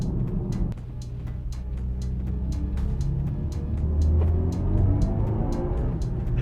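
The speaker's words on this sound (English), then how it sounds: "give you this orchestra of sounds to kind of evoke emotions while you're driving here, and they sound like this." BMW i4 M50 electric car in sport boost mode emits its synthetic drive sound, a low sustained hum that swells and rises in pitch under acceleration, steady inside the cabin with no talk.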